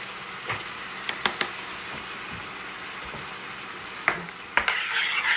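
Tomato, salt and pepper stirred into a pan of sausage and pepper ragu, a low sizzle under scraping clinks of a utensil against the pan, with a few sharper knocks near the end and no talking.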